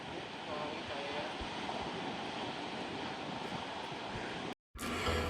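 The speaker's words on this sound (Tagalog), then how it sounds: "Lakas ng hangin." Strong, steady wind at a beach roars across the microphone in a continuous broadband rush, with a brief dropout near the end before the gusting noise resumes.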